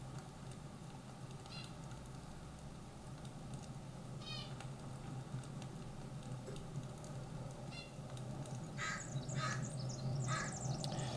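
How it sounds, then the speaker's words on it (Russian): In The Forest video game, harsh crow-like calls sound a few times over a steady low outdoor ambience, with a louder cluster of caws near the end. "Ворона, да?"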